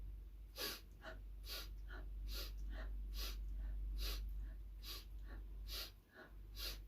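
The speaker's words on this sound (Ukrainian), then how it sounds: "Різкий вдих носиком." Sharp, forceful inhales through the nose repeat in a quick, even rhythm during a breathing exercise, about ten short bursts close to the microphone with no talking.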